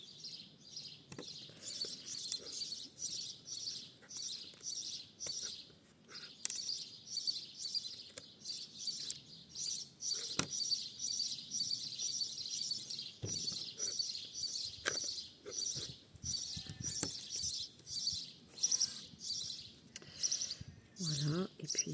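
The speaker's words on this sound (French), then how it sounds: "en compagnie du chant des oiseaux, c'est quand même pas désagréable" Birds sing outdoors in a steady run of bright, repeated chirps and short song phrases, fairly close and continuous, with occasional clicks and handling knocks beneath.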